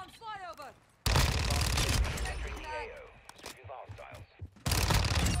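Rapid Fennec SMG fire in Modern Warfare 2, two long, loud, dense automatic bursts with a brief pause of chirpy game effects between them, plus a short opening burst, with a voice talking over the action.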